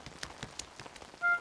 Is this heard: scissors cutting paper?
no